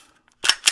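Two sharp metallic clicks from a Glock 43X MOS pistol being function tested, spaced about a quarter second apart, close and crisp against near silence.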